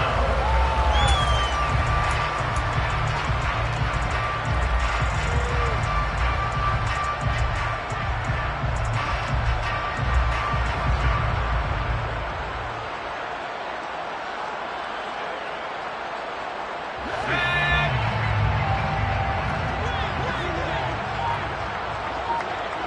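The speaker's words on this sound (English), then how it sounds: "How about some applause for the defense there?" Football crowd applauding and cheering for the defense, a broad roar of claps and whoops that fades to a quiet lull, then swells again, with a commentator talking throughout.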